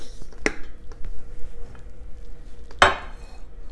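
Banana bread batter scooped from a mixing bowl into a loaf pan, two sharp clinks of utensils against metal or ceramic with soft scraping and handling sounds between them, close and without talking.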